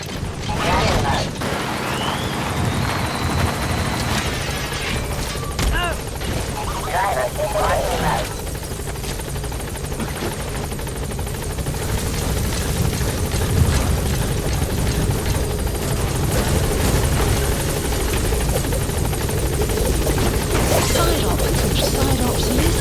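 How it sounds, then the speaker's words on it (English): A support helicopter's rotor thumps and engine roar build steadily as it arrives in Metal Gear Solid V: The Phantom Pain, with game voices and effects layered on top. "Support helicopter has arrived."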